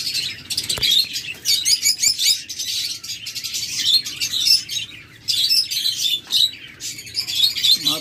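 A pair of lovebirds in a cage chirp and tweet constantly, shrill high calls coming in quick overlapping bursts at close range with no voices.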